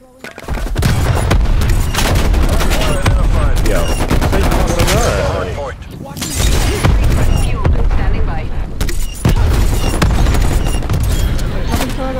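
Dense, loud gunfire and explosions fill a Black Ops Cold War match as the War Machine grenade launcher fires, with continuous booming blasts and firing, a brief lull around the middle.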